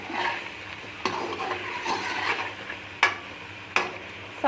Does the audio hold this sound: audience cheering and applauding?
no